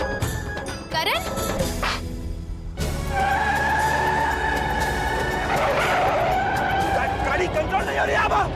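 A car skids out of control with sustained tyre screeching, loud and close, layered with dramatic music and a brief impact-like break partway through.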